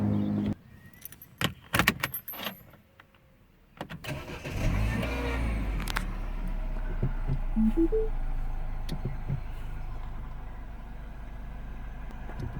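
Keys jingle and clunk nearby, then a Mini's engine cranks after an oil change, catches and settles into a low steady idle that hums on to the end.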